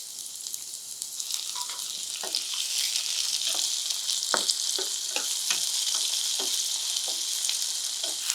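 Tomatoes frying with onions in a pan make a steady, loud sizzle throughout, broken by repeated scraping stirs at an irregular rhythm, with no voices.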